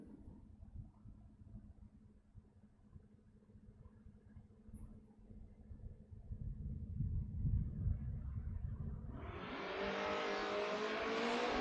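Fox Body drag race cars launch from the starting line at a drag strip, a loud rumbling engine roar building steadily and then giving way to a harsher, bright rushing burst near the end.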